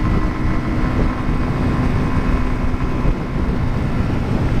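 A 2018 Zontes Monster 125cc motorcycle riding along in England, its engine droning steadily and loudly with dense wind rush, no voices.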